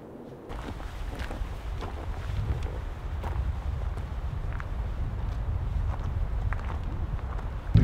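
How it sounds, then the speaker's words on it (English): Steady low wind rumbling and buffeting the microphone throughout, with faint scattered crunching steps underneath, on a hiking trail near a lake in the Never Summer Wilderness. "It's getting windy."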